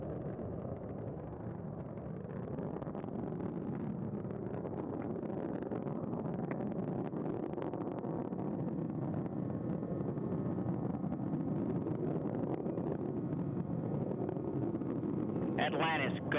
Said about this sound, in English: Engines now revving up